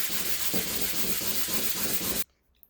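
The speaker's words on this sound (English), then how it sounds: "So get it nice and light sanding and then paint it." Steady back-and-forth rasp of light hand sanding on a varnished wooden bookcase, rhythmic strokes close and continuous, stopping abruptly near the end.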